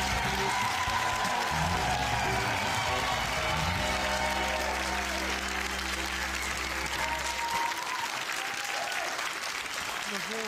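Studio audience on a Finnish comedy show gives big applause for a guest of honour, continuous dense clapping throughout, with music and crowd noise underneath.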